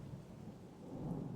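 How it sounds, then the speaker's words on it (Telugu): Thunder rolls low and steady in a quiet storm, a soft rumble that swells slightly near the end, with rain faintly beneath it. "అప్పుడే పెద్ద ఉరుము శబ్దం."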